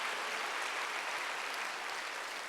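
Church congregation clapping together during a Wednesday worship service, a steady, dense wash of applause filling the room at moderate level for the whole moment, with no voices over it.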